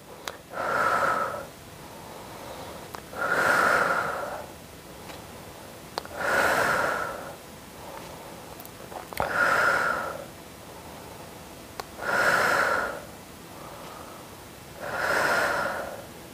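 Slow, controlled breathing in and out during a muscle-strengthening exercise session, six loud, close breathy exhales at a steady rhythm of roughly one every three seconds, with quieter inhales between and no talking.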